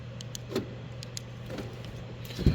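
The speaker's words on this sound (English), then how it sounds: "you hit this button, it locks all the doors for you" Door locks on a 2026 Honda Ridgeline RTL actuate in a couple of quick mechanical clunks, with a sharper thunk near the end, close by against a low steady hum.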